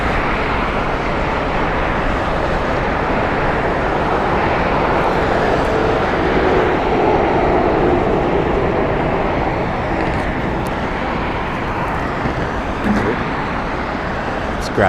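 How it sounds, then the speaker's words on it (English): An American Airlines jet passes at Las Vegas Harry Reid International Airport, a broad, steady engine roar mixed with road traffic, holding loud for the whole stretch with occasional faint voices. "there goes our American flight"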